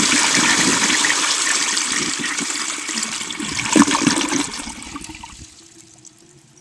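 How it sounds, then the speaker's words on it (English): A 1959 Standard Modernus toilet flushes up close, its jet and trapway rushing loudly in a steady gush that surges briefly before draining away and fading to a quiet trickle, with no voices. "Here's a flush featuring the jet and the trapway close up."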